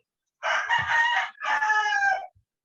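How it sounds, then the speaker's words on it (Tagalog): A rooster crows twice in quick succession, close and clear, each call long and strained, heard alone over near silence during an online seminar session. "Ano naman yung manok?"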